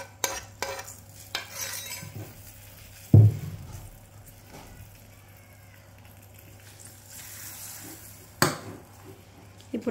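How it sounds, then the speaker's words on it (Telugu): A spoon scrapes and clinks in a pan while stirring a tempering of ghee, cumin seeds, mustard seeds and black pepper, with a few sharp metallic knocks and soft scraping in between, close up with no talk. "ఇప్పుడు పోపు మిక్స్ చేసుకోవాలి."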